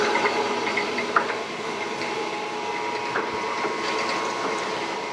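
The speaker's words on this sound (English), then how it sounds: "So the spindle's running at about 700 RPM. You can see it coming down nice and slow." A machining spindle at about 700 RPM slowly boring a cylinder in a GM 5.3 engine block, a steady, loud mechanical whir with faint ticks and rattles throughout and no speech.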